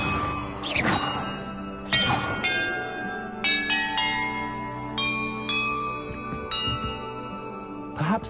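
Bells ring out in the Hogwarts Legacy game, several distinct struck tones sounding in succession at irregular intervals, each leaving a long shimmering decay that overlaps the next, over a low sustained ambient bed.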